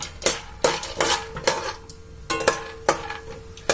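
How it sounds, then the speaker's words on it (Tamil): Peanuts roast in coconut oil in a pan, heard as a series of sharp, close metallic clanks and scrapes from stirring, spaced irregularly with quieter pauses between. "எண்ணெய் லேசா சூடானதும் நம்ம எடுத்து வச்சுக்கோ நிலக்கடலை பருப்பு, அதை கொஞ்சம் வறுத்து வச்சுக்கோங்க."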